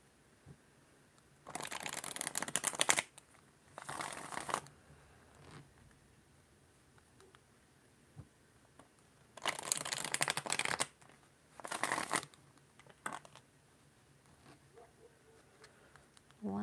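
Tarot cards are shuffled in several quick riffling bursts separated by quiet pauses, close and fairly soft.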